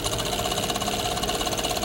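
Sewing machine stitching a collar runs at a steady, rapid rhythmic whir and clatter, close and moderately loud, with no pauses throughout.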